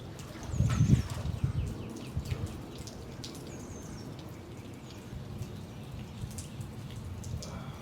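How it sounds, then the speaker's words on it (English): Rain falls outdoors beside a pool, a soft, faint, steady patter with scattered drips and a brief louder splash near the start, with faint bird chirps in the background. "It's still raining right now, so you get a good little cold shock from it."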